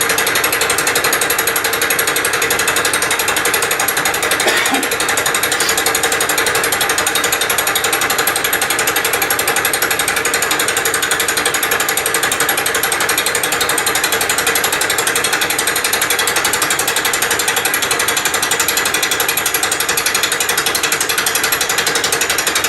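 Bridgeport milling machine fly cutting a clamped workpiece, a loud, unbroken chattering grind with a dense rhythmic rattle that holds steady for over twenty seconds, with no voices.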